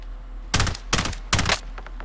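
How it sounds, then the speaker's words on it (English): Three quick bursts of automatic gunfire in Call of Duty Warzone, each sharp, loud and close, with brief gaps between. "They're shooting at another guy too."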